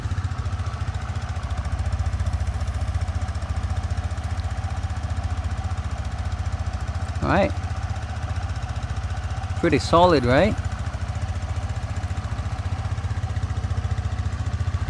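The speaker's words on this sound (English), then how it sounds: "So to start the bike, once you're on, just grab the brake and then start." A Rusi RFi 175 scooter engine runs steadily at idle with a low continuous hum throughout, with brief speech over it.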